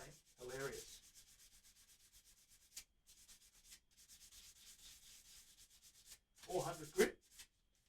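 New guitar frets being sanded with 400 grit sandpaper, a soft, faint rhythmic rubbing of repeated short strokes, with brief louder bursts of scraping near the start and end.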